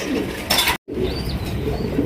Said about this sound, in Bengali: একজোড়া লাল কালারের মোসালদম কবুতর আছে